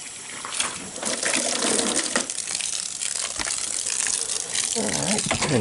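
Water gushes steadily from a garden hose into a container while getting a camper ready for a trip, a loud continuous rushing pour that fills the whole stretch with little else over it.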